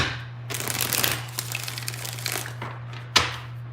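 Tarot cards being shuffled by hand, several bursts of riffling and rustling close to the mic over a steady low hum, ending with a sharp snap as the deck is squared.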